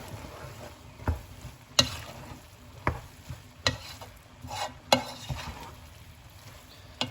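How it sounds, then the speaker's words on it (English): Caramelized cabbage is stirred together with pasta, pepper and white wine vinegar in a pan, a series of scrapes and clacks spaced about a second apart over a quiet sizzle. "you're gonna give it all a good stir."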